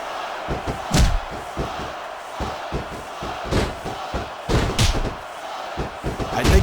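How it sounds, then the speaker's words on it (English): Capacity crowd in a wrestling arena during a WWE women's championship Iron Woman match, loud uneven roars and shouts with repeated heavy thuds from the ring punctuating the noise, surging and fading over several seconds. "This capacity crowd is making their opinions known tonight"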